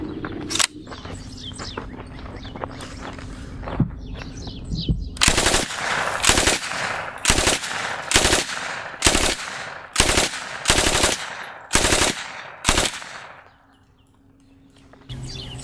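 Thompson .45 submachine gun firing in an outdoor accuracy test, a string of loud close bursts and single shots in uneven rhythm, with faint birdsong around them before and after.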